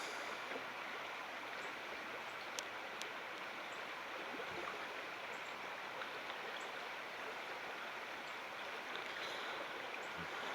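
Creek water flows steadily beside an eroded old bank, a continuous broadband rush with no talk over it.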